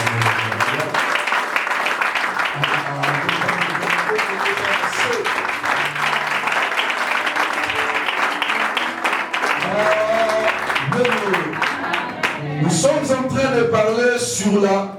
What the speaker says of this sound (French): Nous acclamons pour Jésus.